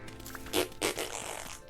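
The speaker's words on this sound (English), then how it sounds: "Now I can hear the farts." Two short, muffled fart sounds in quick succession from a Vintage Story game character, faint over a low background hum.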